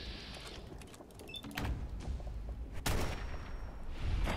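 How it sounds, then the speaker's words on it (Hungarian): Gunfire in the post-apocalyptic shooter Fallout 4 during a Nuka-World fight with ghouls: a few sharp, loud shots with broadband bursts ring out over a dense, busy game soundscape, including one especially strong crack near the middle. "Ez egy ilyen nyakszírt lövés volt."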